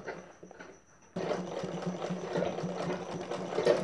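A sewing machine stitching a blouse sleeve starts up after about a second of quiet, then runs steadily and close by with a continuous whirring, rattling hum. No one speaks.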